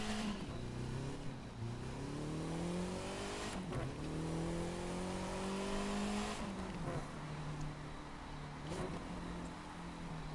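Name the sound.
car engine in the video game The Crew 2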